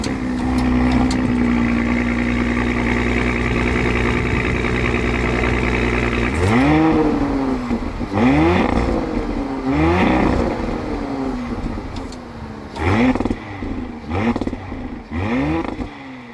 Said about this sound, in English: Here's a couple sounds from it starting up.